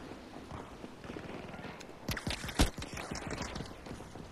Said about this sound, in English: I hear so many footsteps.